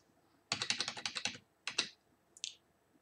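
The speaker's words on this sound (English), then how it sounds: "I'm going to name this file John and Julie." Quick run of keystrokes typing a file name on a computer keyboard, about a dozen close, crisp clicks in one burst, then a couple more key presses and a final light tap, alone in a quiet room.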